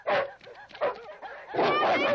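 A wolfdog in a 1980 family adventure film barks nearby in a few sharp, uneven bursts, the last one longer and whining, with no voices over it.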